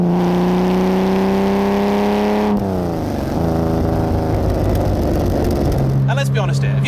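A competition-spec Aston Martin DB4 classic engine pulls hard through the gears, rising whine and rasp under a gear change, loud and close from inside the car while someone talks over it.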